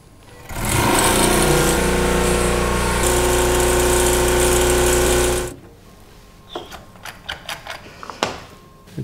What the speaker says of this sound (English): We are going to grind the leaves for 1 minute at 30 hertz.